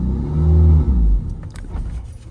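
A manual Ferrari F430 engine idles with a deep, loud rumble, then abruptly dies as the car stalls, leaving a few faint clicks and rattles in the sudden quiet.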